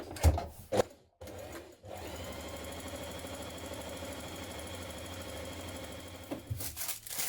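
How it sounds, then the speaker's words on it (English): A sewing machine runs a steady stay stitch around the back yoke neck edge of a blouse, a continuous close mechanical whir after a few brief handling knocks, fading to small clicks at the end. "Now we're going to stay stitch around the yoke back neck edge."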